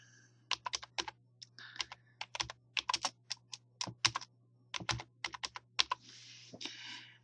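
Fast, irregular clicks of keys on a computer keyboard as an answer is typed into a study flashcard web service, close and crisp over a low steady hum, with no talk.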